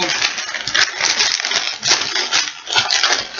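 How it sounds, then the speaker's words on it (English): A sheet is crumpled into a ball with one hand, working in from a corner, giving loud, close crackling in repeated bursts. "using your hand, crumple it up towards you"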